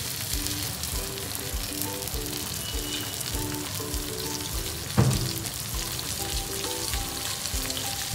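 Mackerel (bangda) fillets pan-frying in hot oil, browning on both sides: a steady, loud sizzle runs throughout, with a sharp clatter of utensil contact midway, no voices.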